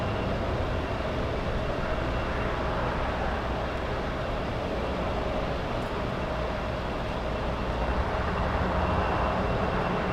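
Lufthansa airliner at Los Angeles International Airport, a distant steady jet roar and rumble held at an even level throughout, with no voices.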